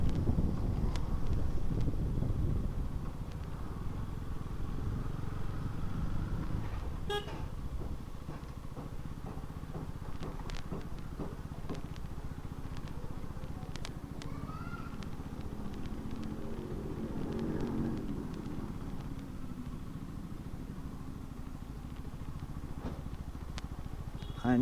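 A 2025 KTM Duke 250 motorcycle rides off-road, its steady engine drone nearly buried under continuous heavy wind buffeting on the microphone for the whole stretch.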